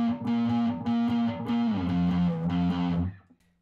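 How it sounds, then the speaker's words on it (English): Electric guitar played through a harsh, heavily distorted tone, loud sustained chords that shift pitch partway through and ring out before fading at the end, with no talk over it. "as opposed to a much harsher distortion"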